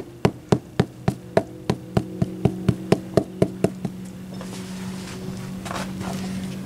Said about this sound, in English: And I got my rubber hammer.